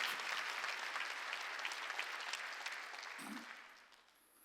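Church congregation at a Sunday worship service breaking into loud, full applause, sustained clapping from many hands that gradually tapers off near the end.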